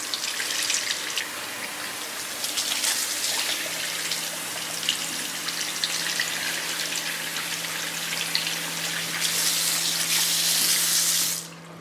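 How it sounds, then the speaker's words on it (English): Water from a tap runs and splashes steadily over hair being rinsed during a perm neutralizing step, a continuous close hiss that swells louder near the end before cutting off. "by starting on top, the water flows through the others, so you have less water"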